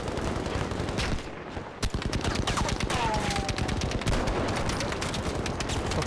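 Battlefield 5 gunfire fills the scene, with dense, rapid bursts of shots crackling continuously. A Kar98 rifle is among the weapons, and the volley is loud and sustained throughout.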